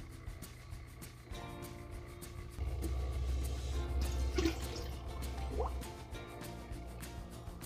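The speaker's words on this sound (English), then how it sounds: "now I'm gonna fill it up" Water runs and trickles steadily into a container, with gurgles and drips, close by and moderately quiet.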